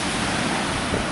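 Sea waves surge and break on the beach at Platanias, a dense, steady wash of surf with wind noise, loud and close, with no voices.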